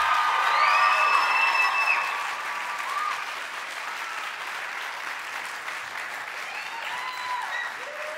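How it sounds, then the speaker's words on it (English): Applause rises from the audience at a high school choir spring concert, fuller at first and then thinning to a steady, softer patter. "Let's give one more round of applause"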